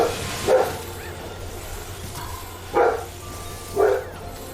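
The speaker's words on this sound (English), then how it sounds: "Never know when he's gonna bark all of a sudden." A dog barks indoors in a room, three short, loud barks spaced a second or more apart over a low background hum.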